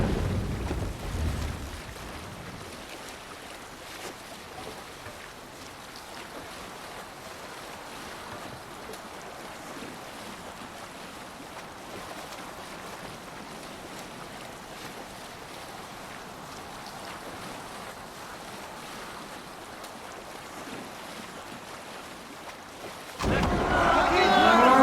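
Sailing ship moving across ocean waves in the game Assassin's Creed Valhalla, a steady wash of water and wind rushing for over twenty seconds, with a louder surge near the end and no voices.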